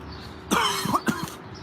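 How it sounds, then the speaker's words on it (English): A single rough cough followed by a second short cough, close to the listener, with no talking. "Yeah, I've a bad cough."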